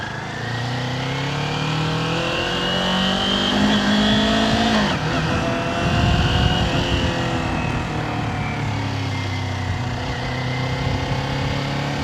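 Kawasaki Ninja 400 motorcycle engine revving and shifting while riding, steady loud engine drone with rising and falling pitch sweeps as the throttle opens and eases, continuous for the whole stretch with no talking.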